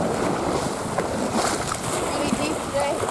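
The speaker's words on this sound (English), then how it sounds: "Yeah, some waves coming in." Ocean surf splashes and churns continuously around horses being ridden through deep sea water, a broad wash of water noise with faint voices talking underneath.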